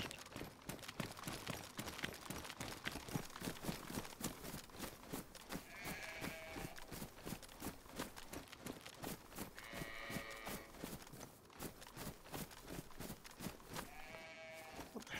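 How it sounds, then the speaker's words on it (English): Sheep bleat a few times at intervals in the video game DayZ over a steady, busy background of rhythmic ambient noise, the calls fairly faint and distant. "Look at these sheep."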